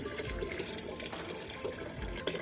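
Water being poured from a container onto a potted holy basil plant, a steady splashing trickle that stays fairly quiet and even for a couple of seconds.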